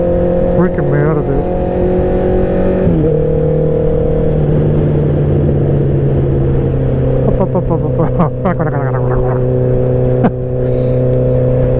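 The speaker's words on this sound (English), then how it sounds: "The bike is so loud" A motorcycle engine holds a loud, steady drone with shifting revs throughout, a drag-racing style bike idling and revving close by while a voice talks over it.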